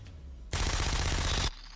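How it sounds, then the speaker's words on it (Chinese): Gunfire from the TV series Breaking Bad comes over a phone line as one loud, dense burst of rapid shots lasting about a second, then cuts off sharply. "听到电话那头传来的枪声"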